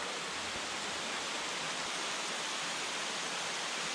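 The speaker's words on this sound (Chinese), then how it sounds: "下雨喽" Steady rain falls outdoors beside a river, a dense, even hiss with no breaks that fills the whole moment, loud and close, with no voices.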